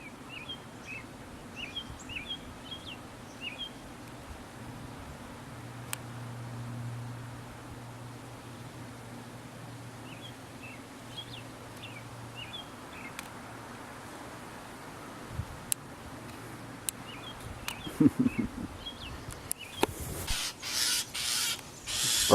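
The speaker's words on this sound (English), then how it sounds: "Bird up here is very mad." An agitated bird calling outdoors on farmland, short chirping bursts repeated at intervals across a quiet open-air background, fairly faint, with rustling and handling noise near the end and no talking.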